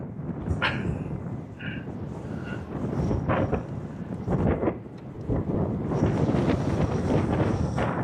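Wind buffets the camera microphone beside an airport fence, a loud rumbling rush that gusts unevenly throughout, with faint higher sounds in the background and no speech.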